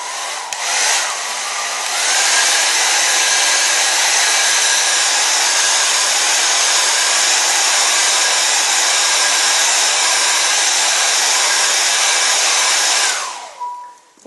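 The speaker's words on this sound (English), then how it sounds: "We can just dry that area very quickly with the hairdryer. So you're going to get a bit of noise from this." A hairdryer blows steadily and loudly for about eleven seconds while drying freshly applied dye on a black leather jacket, switching on at the start and cutting off near the end, with no talking.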